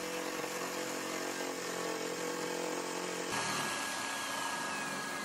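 Jigsaw cutting an opening for a convection grille in a Brunner fireplace casing, a steady buzzing saw drone held close and constant, shifting in tone partway through as the cut ends, with no talk.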